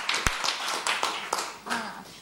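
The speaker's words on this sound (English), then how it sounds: "So big round of applause." A few scattered, separate hand claps ring out from an audience after a panel discussion at a Ukrainian civil society event, with a voice speaking in between.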